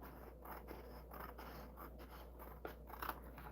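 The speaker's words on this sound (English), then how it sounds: "So I'm going to cut this up really quick." Scissors snipping through paper, a series of quick close crisp cuts at an irregular rhythm, quiet over a low steady background hum with no talking.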